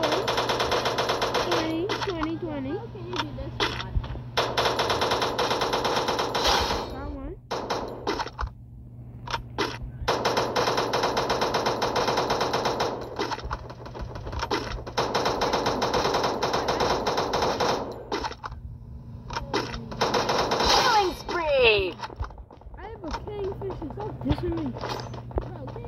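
Rapid bursts of AK-47 automatic fire fill the Free Fire video game match in long, dense stretches, with short gaps between volleys, while a player talks over the shooting.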